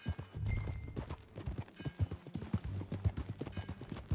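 Horse hooves clip-clop while riding in a PS4 video game, a steady close rhythm of hoofbeats with no talk over them.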